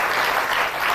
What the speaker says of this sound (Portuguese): Mais um aplauso para todos.